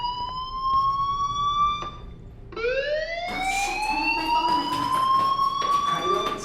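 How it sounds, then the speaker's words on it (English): School fire alarm wailing in the video game Life Is Strange, a loud electronic tone sweeping upward repeatedly, cutting off once then restarting, with faint background sounds beneath. "do you hear that fire alarm? That means you should be outside."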